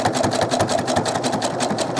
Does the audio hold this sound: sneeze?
no